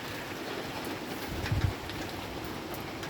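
After a storm, rainwater falls through holes in a leaky roof of recycled sheet metal above a reclaimed-wood ceiling, making a steady close hiss with one brief soft thump partway through.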